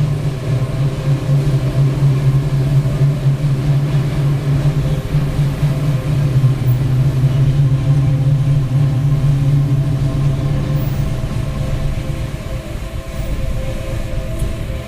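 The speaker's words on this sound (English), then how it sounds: "Ah, the exhaust. That also makes all the difference in this sound." A powerful car idles with a steady low exhaust rumble through a Flowmaster Series 40 muffler and Hooker headers, loud and continuous with a faint dip near the end.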